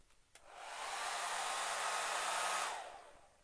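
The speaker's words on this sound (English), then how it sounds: "Next I'm going to get a hairdryer" A hair dryer switches on with a click, blows with a steady whirring roar for about two seconds, then winds down.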